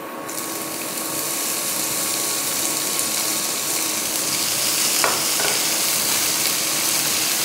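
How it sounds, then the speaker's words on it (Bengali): Spring onion greens and green chilli fry in a pan for Indo-Chinese chicken Manchurian, a continuous close sizzle with a few quick clicks and scrapes of stirring near the end, no talk. "কাঁচা লঙ্কা পেঁয়াজ পাতাটা দিয়ে দেবো।"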